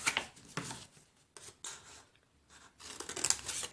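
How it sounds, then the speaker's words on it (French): Scissors trimming the edges of folded paper for a handmade planner pocket, several separate close snips and rustles with short quiet gaps between them. "Là, ben, je vais couper les bords."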